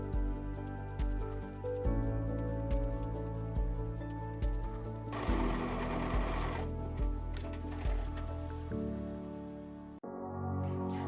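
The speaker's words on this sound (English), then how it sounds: "to finish the coin pocket flap, we're just going to edge stitch along the sides and bottom." A sewing machine edge stitches along the sides and bottom of a shorts coin pocket flap, its needle running in a steady close whir with brief speed changes and a short pause near the end, heard alone without talk.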